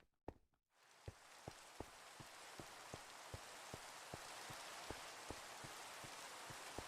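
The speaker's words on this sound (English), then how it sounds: "it rains once a day in Minecraft now" Steady rain hisses in the video game Minecraft, with faint regular dripping ticks scattered through it after a short silent start; no talking.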